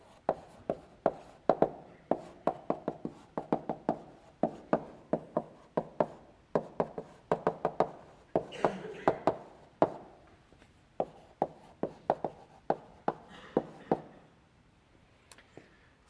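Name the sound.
lecturer writing on the board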